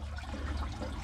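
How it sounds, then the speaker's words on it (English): Excess water running out of the cooling system of a Yamaha F/FL 200 outboard engine during flushing, a steady close splashing and trickling stream without pause and with no talk. "and then just some of the excess in the cooling system runs through there."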